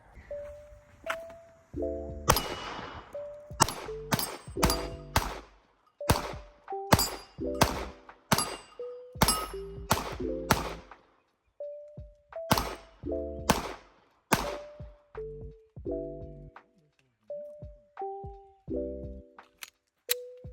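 Rost Martin RM1C pistol shots ringing off steel targets at about 25 yards, a long string of sharp reports each followed by a metallic clang, paced in quick groups with short pauses.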